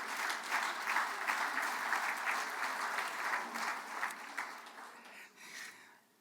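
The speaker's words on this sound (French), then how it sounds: "Une bonne main d'applaudissements." Warm applause from a banquet audience, steady clapping from many hands that fades out toward the end, fairly distant in a large room.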